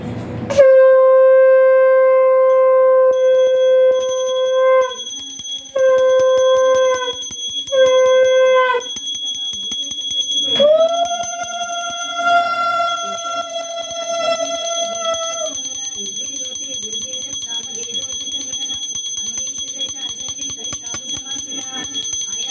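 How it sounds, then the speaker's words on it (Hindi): A conch shell blown during a Hindu puja gives long sustained tones in several separate blasts, followed by a struck bell ringing out and decaying with continued ringing, loud and close. "शंख घंटी बजाते हुए, बजाते हुए सभी प्रार्थना में इस पूजा में भाग लीजिए।"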